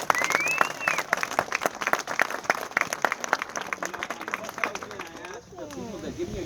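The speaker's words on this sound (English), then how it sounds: "So just give them a big applause." A crowd applauds at a ceremony at the César Chávez La Paz National Monument, with steady clapping throughout and cheers and voices rising near the end.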